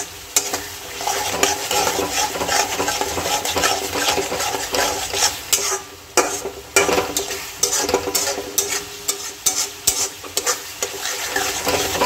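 Masala being stir-fried with small additions of water, steady sizzling under constant, busy scraping and clinking of a spatula against the pan, close and fairly loud throughout.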